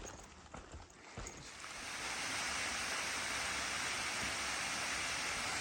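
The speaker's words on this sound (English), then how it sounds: "The waterfalls, man." A waterfall on the Sheltowee Trace hiking trail gives a steady, loud broadband rush. It builds over the first two seconds, then holds as a constant wash of falling water, with a few faint footsteps or knocks near the start.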